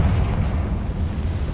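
A fiery Confringo explosion spell goes off in Hogwarts Legacy, a dense low rumbling boom that fills the short moment without any voices.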